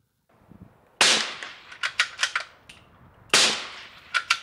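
Two sharp suppressed .17 HMR rifle shots through a Rex Silentium MG22 rimfire suppressor crack outdoors, each followed by a quick string of echoing reports, loud and close with no talk.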